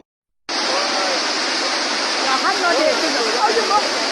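Floodwater from heavy rain rushes through a compound in Buea, making a loud, steady, broadband roar that starts abruptly and continues without a break.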